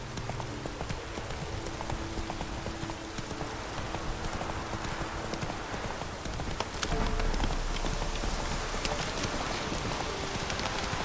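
Roach, a horse in The Witcher 3 video game, gallops with rapid, rhythmic hoof clip-clops under a steady rain-like wash of ambience, close and continuous.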